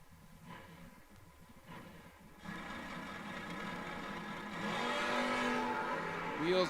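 A drag race car, a dragster racing a Corvette at a drag strip, launches off the line with a rising engine roar that builds from a distant rumble to a loud, sustained scream.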